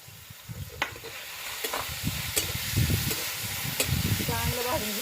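Potato bhaji with tomatoes and masala sizzles in a pan while being stirred, giving a continuous crackling hiss with repeated scraping strokes and sharp ticks, and a voice murmurs faintly underneath.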